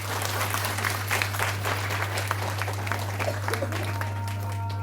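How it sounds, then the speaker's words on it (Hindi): A church congregation at a village house blessing and holy mass claps together in a scattered, moderately loud round of applause over a steady electrical hum. "हम सब एक दूसरे के लिए जोरदार ताली बजा देंगे।"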